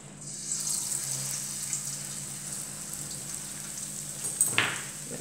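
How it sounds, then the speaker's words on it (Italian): Battered zucchini flowers stuffed and frying in hot oil give off a steady, dense sizzle with a faint crackle, close and unbroken throughout. "e andiamo a friggere."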